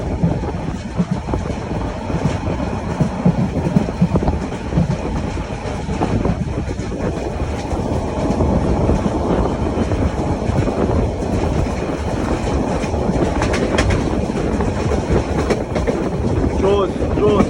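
Train at Lohagara railway station in Bangladesh, a loud continuous rumble and rattle of a passing or moving train heard close, with an excited voice speaking over it.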